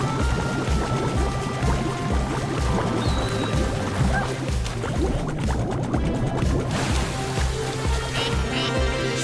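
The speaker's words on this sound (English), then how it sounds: "Swimming up a waterfall, that's fun." Rushing, splashing water in the game Astro Bot as a character swims up a waterfall, a continuous churning wash with dripping and pouring textures over a low rhythmic game score, no voices.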